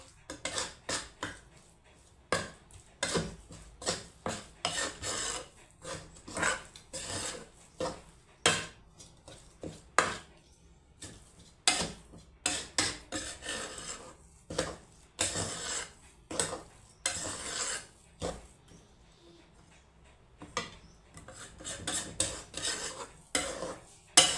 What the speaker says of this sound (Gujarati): જો તો ગોળ મસ્ત મિક્સ થઈ ગયો છે.